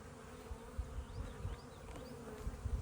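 Honeybees around a nuc hive during installation and inspection, a soft continuous buzzing hum with a few passing individual bees, faint and close, no voices.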